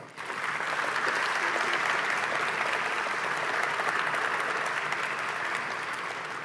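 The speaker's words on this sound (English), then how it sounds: "I think they merit a big round of applause" A large conference audience applauds steadily after a closing keynote, dense continuous clapping filling the hall at even loudness from start to finish.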